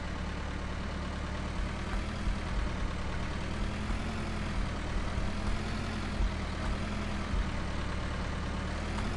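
A tractor engine in Farming Simulator 2013 on the Smithfield farm map runs with a steady low rumbling drone, loud and continuous throughout with no talking.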